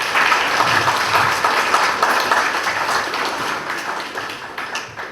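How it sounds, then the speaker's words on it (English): A roomful of people gives a warm round of applause at an appreciation event. The clapping is close, dense and continuous and eases slightly toward the end. "So a big round of applause for sir."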